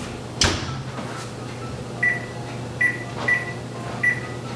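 A tuna casserole goes into the oven: a sharp clunk of the oven door near the start, followed by several short electronic beeps as it is set, quiet hum underneath.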